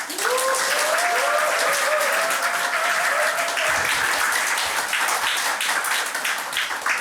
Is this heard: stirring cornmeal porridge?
no